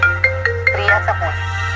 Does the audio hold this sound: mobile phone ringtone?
yes